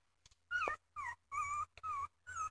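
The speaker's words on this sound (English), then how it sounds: "they could only stay this small and their squeaky barks stay like that." Puppies giving a string of high, squeaky little barks and yips, five or six short bursts in quick succession, close and fairly quiet with no talking.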